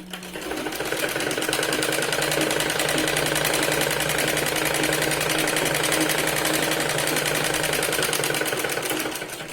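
Sewing machine running continuously while stitching the edge of sherwani fabric, a fast even mechanical whir with a rapid needle rhythm, loud and close, starting and stopping cleanly.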